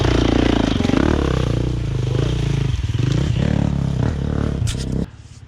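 Dirt bike out in the woods, its engine running loud and close with revving and sputtering rises and falls, clattering and scraping as it moves, then cutting to a low idle near the end.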